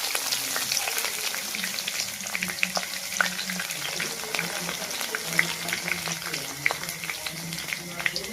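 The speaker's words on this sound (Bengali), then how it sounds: "মাংস ভাজার তেলের মধ্যেই এবার পেঁয়াজ কুচানি দিয়ে দেবো" Chopped onions sizzle and fry in oil left from browning meat for a chicken curry, a steady crackling hiss with occasional stirring clatter, close and continuous.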